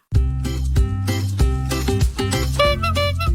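A bright, repeating melodic horn jingle plays loudly and steadily, its looping tune filling the whole stretch without any voices.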